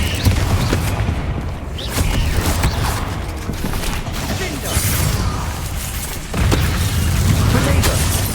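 Confringo fire spell explosions in Hogwarts Legacy, a steady roar of blasts and crackling impacts with deep booms, loud and close throughout, with a voice calling out in the game.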